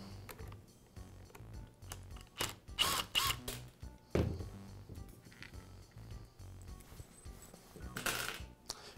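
Screw being worked loose from the gearbox of a Makita polisher during an armature repair, with scattered metallic clicks, small tool clatter and brief ratcheting bursts near the mic, uneven and close.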